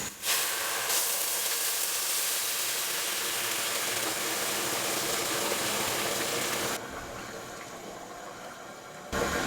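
Water poured into a pot of rice frying in hot oil and spices for tehari makes a loud, steady rushing hiss that drops off abruptly near the end.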